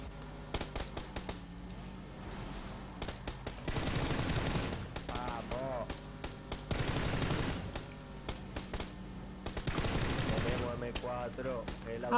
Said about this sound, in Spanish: Vamos a empezar los tiros.